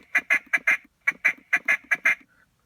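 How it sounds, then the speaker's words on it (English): A handheld duck call blows a series of loud, close quacks in two rhythmic bursts of four and six with a short pause between, ending in a faint trailing note, with no voices. "you giving us information on duck calls"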